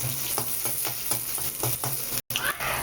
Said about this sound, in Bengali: পেঁয়াজটা হালকা একটু নাড়িয়ে নিই